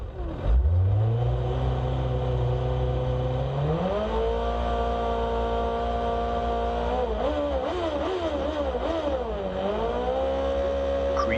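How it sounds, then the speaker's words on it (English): A Sports 1000 race car launches from a standing start at Castle Combe with a bit of wheel spin, its engine screaming loud and close as it climbs through gears with sharp shifts and revving. "So, bit of wheel spin, but not too bad."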